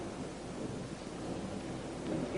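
A storm rumbles with low, steady thunder mixed with wind and rain, a continuous broadband roar that swells slightly near the end, with no voices.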